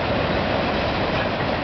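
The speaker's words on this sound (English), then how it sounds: "This is 271 CN train" A single-engine CN freight train rushes past in Milton, Ontario, a loud, steady, close roar of wheels and engine with no voices.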